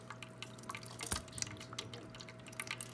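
Water drips and trickles softly in a parakeets' new water fountain, with a faint steady hum beneath and one louder splash near the middle.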